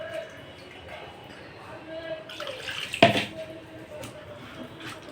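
Water poured into a bowl of fish coated with mustard oil and spices, a short splashing pour under a speaking voice, fairly quiet and close, with a brief clatter midway.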